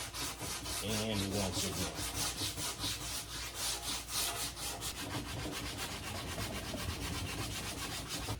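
Hand sanding with 80-grit sandpaper on a painted wood corner with a factory paint lip, giving loud, close back-and-forth scraping strokes in a brisk rhythm, with a brief spoken phrase early on.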